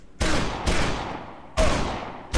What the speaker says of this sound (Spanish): ¿Quién coño aguanta tantos disparos?